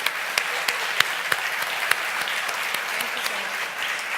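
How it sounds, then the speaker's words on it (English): Audience clapping for Lieutenant Commander Vartika Joshi at a women's forum event, a steady, dense round of applause with a few sharper claps standing out, sustained throughout. "A big round of applause for them."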